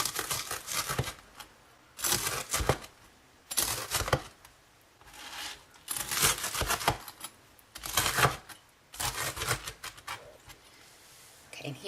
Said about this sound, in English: So I'm just going to cut it up into chunks.